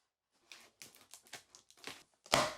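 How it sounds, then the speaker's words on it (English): Several short crinkly snips and rustles of plastic, close by, ending in a louder tearing crunch. "Grab my handy dandy scissors here and we'll cut this open."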